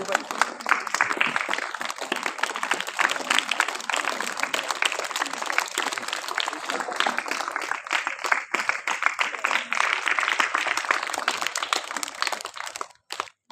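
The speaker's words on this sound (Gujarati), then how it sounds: "આગળ છે એમને બધા તાળીઓથી વધાવીએ" Sustained applause from a crowd at a primary school Republic Day prize-giving for students, dense clapping that runs steadily for about twelve seconds before cutting off, with voices faintly mixed in.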